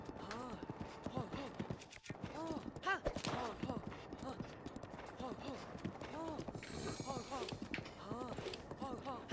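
Hooves from a horse ridden in the video game Zelda: Breath of the Wild clip-clop in a quick, regular rhythm, close and continuous, with someone talking over the galloping.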